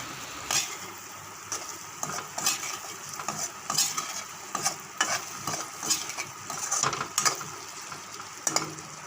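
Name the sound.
stir-frying eggs and potatoes with spices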